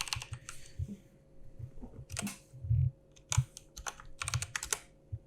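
Close-up computer keyboard typing, with the microphone right in front of the keyboard, in irregular bursts of clicky keystrokes, with a few louder thumps and short pauses, no voices.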